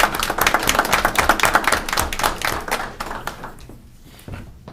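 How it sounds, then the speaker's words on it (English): A school board meeting audience gives a round of applause, dense and close at first, then thinning out and trailing off into a few scattered claps before fading to near silence. "let's give them all one more round of applause"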